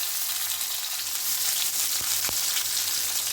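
Tomatoes drop into a pan of coconut frying for a spicy Konkan-coast village-style chicken masala, giving a steady, close sizzle with two brief sharp taps midway.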